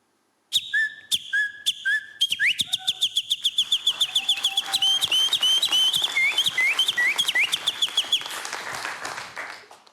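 A man whistles an imitation of a nightingale's song, starting with a few separate chirps and then breaking into a fast, bright, trilling run of notes. It is close and loud, with clicks and claps mixed in.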